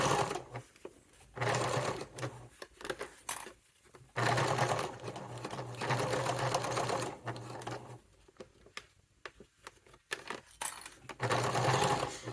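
Sewing machine stitching a straight piece of fabric onto a curved one, running in close, loud bursts of rapid needle chatter with short pauses between runs.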